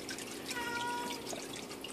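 Water quietly trickles and drips as it spills over the edge of a gravel-lined swirl filter on a 55 gallon aquarium aquaponics setup, a soft, continuous flow heard close up with no talking.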